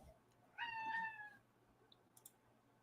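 A cat meows once near a computer monitor, a single clear drawn-out meow close to the microphone, followed by a few faint clicks in an otherwise quiet room.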